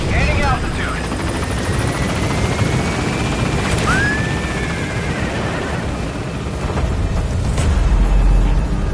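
P-Quad helicopter from Metal Gear Solid V climbing away from a landing zone, a loud continuous rotor and engine roar with a rising whine, mixed with game effects.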